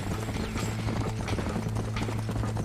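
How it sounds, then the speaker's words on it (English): Rhythmic clip-clop of horse hooves in the Red Dead Redemption video game, steady and close over a low hum, with no talking. "My horse found his way down"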